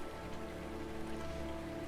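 Soft, steady rain falling in the video game Rainswept, a continuous faint patter and hiss with a low hum beneath and no voices.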